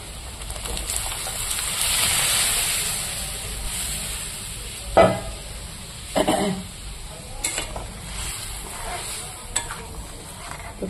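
Ginger, cumin and dried red chilies sizzle in hot oil as a tempering for fish-head dal, giving a steady close hiss. A few loud metal clanks from a spoon against the pot cut through it, and no one speaks.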